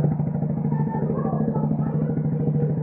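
A motorcycle engine with a newly fitted muffler revving at half throttle, a close, loud, deep and steady putter with a rapid even pulse and rising then settling pitch, without speech.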